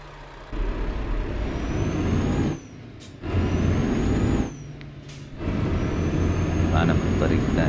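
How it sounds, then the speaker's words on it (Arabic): Renault truck engine in Euro Truck Simulator, hauling two trailers on roads in Iraq: a loud, droning engine rumble that rises and drops in three surges with brief pauses between, with a faint hiss as it eases off. "يعني يا اخوان انتوا سامعين صوت الشاحنة؟"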